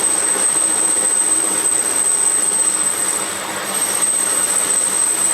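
Smart & Brown lathe parting off steel bearing race stock at speed, a loud, steady, dense broadband roar with a piercing high whine held throughout.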